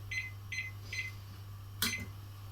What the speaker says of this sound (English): Sorry, Mr. Wallflowers, if you can just set 5 minutes on the little timer for me